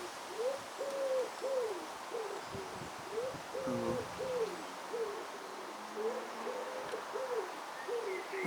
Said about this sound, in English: There's a nest in this tree somewhere of wood pigeons. That's what it's making a noise for.